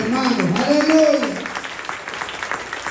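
A church congregation bursts into loud applause during a service, a steady wash of clapping that swells then gradually fades, with a voice speaking over it.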